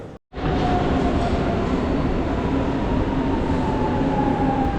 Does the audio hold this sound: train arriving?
yes